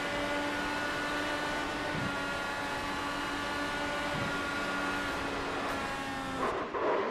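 Onboard engine of a race car at speed during the 2022 Lionheart Speedway Series Miami 200, a sustained loud whine with steady harmonics and a brief shift in pitch near the end.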